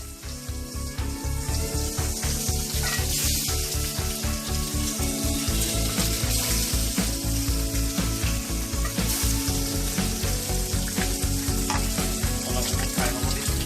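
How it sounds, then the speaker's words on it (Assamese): Eggs fry in hot oil in a pan while making egg curry, giving a continuous, close, crackling sizzle with a steady pulsing texture and no talking. "তেলখিনি গৰম হ'লে মানে আমি ইয়াত ডিমটো ফ্ৰাই কৰিবৰ কাৰণে দিম"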